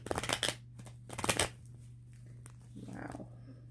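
A deck of tarot cards is shuffled in two quick, crisp riffling bursts close to the listener, followed by quieter handling and a soft voice speaking briefly at the end.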